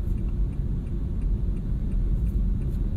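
A 2014 Honda Brio E 1.2 automatic cruises along a toll road, heard from inside the cabin as a steady, loud low-frequency road and engine rumble with a faint ticking.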